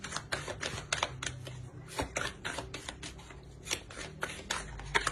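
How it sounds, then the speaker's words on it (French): Tarot cards shuffled and drawn by hand, a rapid run of crisp riffling slaps and snaps, close and fairly quiet, with no talk over it. "Je vais rajouter deux petites cartes."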